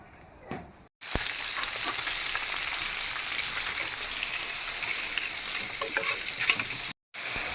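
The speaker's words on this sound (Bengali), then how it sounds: "মাছ রান্নার জন্য মশলা কষাইতেছি দুই চুলায় আমি দুইটা পাত্রের মধ্যেই মশলা কষাইতেছি" Spices for a fish curry sizzle and fry in a pan, with continuous loud crackling and the scrape of stirring, cut by short silences at the start and end.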